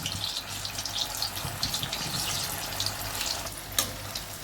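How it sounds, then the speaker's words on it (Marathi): Spinach bhaji fritters, dropped into hot oil, fry with a continuous soft crackling and bubbling hiss at moderate level, with one brief sharper pop near the end. "तेलमध्ये आपण भजी टाकून घेऊ।"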